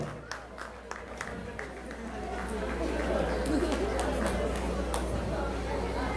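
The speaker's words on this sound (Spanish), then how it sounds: "Recibámosla con un fuerte aplauso." A crowd in Pauza, Ayacucho, Peru greets a huayno singer with steady applause and cheering that builds over several seconds, mixed with crowd chatter and a loud low hum.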